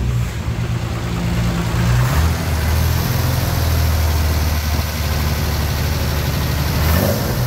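A 1975 Torino GS engine fed by three Weber carburetors revs loudly and continuously from start to finish, a steady deep roar that swells a little near the end, with no voices.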